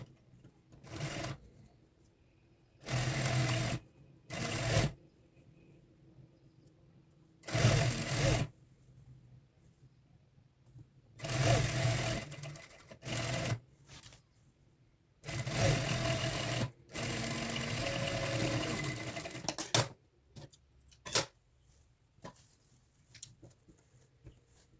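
Sewing machine running in repeated bursts of stitching along the side seam of a fancy lehenga, each run a second or several seconds long, separated by short quiet pauses, close and clear with no talking.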